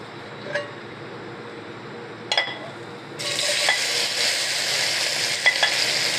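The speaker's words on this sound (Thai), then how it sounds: "เดี๋ยวรอน้ำมันร้อนก่อนครับ เดี๋ยวเราก็ใส่พริกไปเลยนะครับ" Chilies dropped into hot oil in a wok, a couple of sharp clinks of a utensil against the pan, then a loud steady sizzle and frying hiss that takes over and continues.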